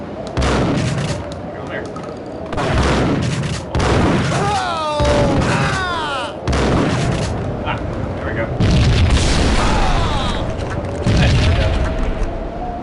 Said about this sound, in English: Shotgun's not terribly accurate.